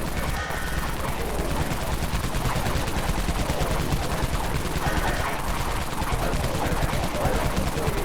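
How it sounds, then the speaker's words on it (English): The Dawn Minigun in the video game Dead Frontier fires a dense, continuous rattling stream of rapid shots, loud and unbroken for several seconds with no voices. "Here's the Dawn Minigun."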